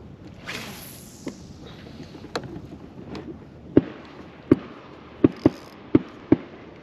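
Several sharp distant gunshots from duck hunters pop at irregular intervals over quiet outdoor ambience, growing more frequent toward the end.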